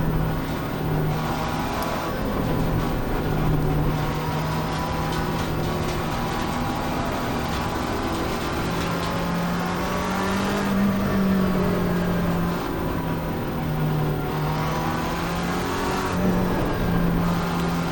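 Race car engines in the sim racing game Assetto Corsa Competizione, a steady loud drone with sustained revving, a low humming tone running underneath, and occasional bursts as cars pass, with no talking.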